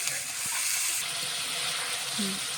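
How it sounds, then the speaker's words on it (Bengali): Water goes into a pan where spice paste is frying for a koi fish curry, and a brief hiss joins a steady, close sizzling wash. "একটু হালকা করে পানি দিয়ে নাহলে মশলাটা পুড়ে যাবে"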